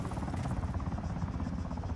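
Steady low rotor thrum of a helicopter in Arma 3, even and continuous, fairly close, with no talking.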